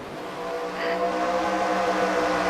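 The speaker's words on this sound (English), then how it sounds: "as they're beginning to rev up the engines slightly more." Several race car engines droning and building in pitch together during an amateur racing series event, a loud sustained layered roar without talk.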